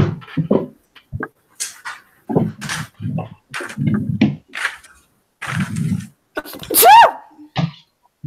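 A single sharp, loud sneeze bursts out close by near the end, following a stretch of broken talking and small knocks.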